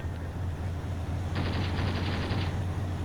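An AA gun fires a rapid burst in the video game Graviteam Tactics, a fast rattling string of shots lasting about a second over a steady low engine-like drone.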